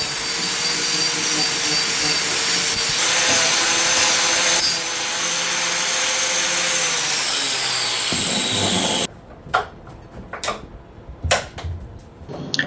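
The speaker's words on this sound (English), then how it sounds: "And I used grinder for shaping it to look like a live edge." A grinder shaping walnut wood into a live edge for a console table, a loud sustained whining roar with rough abrasive texture that cuts off abruptly, followed by a few sharp knocks and scrapes.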